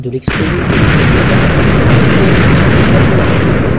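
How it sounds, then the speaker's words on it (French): Huge Minecraft explosion: a sudden massive boom that bursts after a brief quiet moment, then a sustained loud roaring rumble of blasts and debris filling the rest of the clip. "la vidéo risque de friser étant donné l'ampleur de l'explosion"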